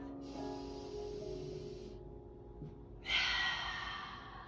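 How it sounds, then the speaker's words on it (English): Long, slow exhalations during yoga breathing, a soft airy breath out lasting a couple of seconds, a short pause, then a louder, breathier exhale, close and quiet. "Give me 2 more big breaths in. And long breaths out."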